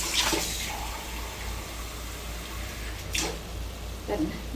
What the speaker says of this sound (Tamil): நம்ம தண்ணி கொஞ்சம் ஊற்றிக்கலாம்.